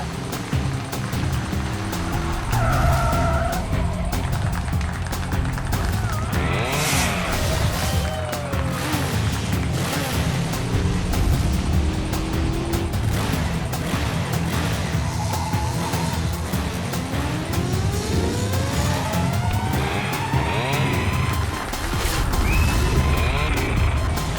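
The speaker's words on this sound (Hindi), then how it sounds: "हमारे सुपर बाइकर्स अपने स्टंट्स के साथ ऑलरेडी चालू हो चुके हैं" Stunt motorbikes at a show rev hard and skid through wheelie tricks, with rising engine whines and tyre squeals over a constant loud roar of crowd and PA noise for the whole stretch.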